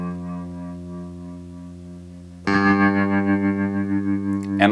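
An Eventide Spring reverb plugin preset on an instrument: a sustained, harmonically rich held note with a soft tail, then a louder, brighter, more distorted and splashy chord that rings on with reverberant shimmer.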